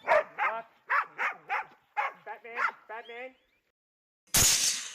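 Hunting dog barking during a wild boar hunt, several quick yipping barks in bursts at close range, followed by a pause and a loud sharp noise at the end.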